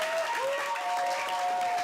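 Audience applause for Sam at an Astronomy on Tap night: a brief, dense burst of clapping from a crowd, loud and steady throughout, with a faint tonal hum underneath.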